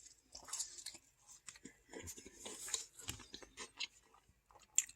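Crunchy chewing of Quaker Oatmeal Squares cereal, close and quiet, with irregular bites and crunches spread across the moment and no talking.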